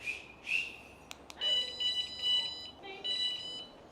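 Several short, high electronic chirps and beeps from a van alarm being armed by remote sound in uneven bursts, fairly quiet, with faint background noise.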